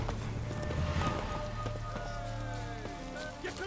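Horse hooves clip-clop in The Witcher 3 as riders set off, a steady trotting patter under game music and a talking voice.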